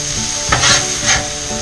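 Meat and noodles stir-frying in a pan for an Asian noodle mix, a close, steady sizzle with two brief scraping surges as the food is pushed and stirred, no voices.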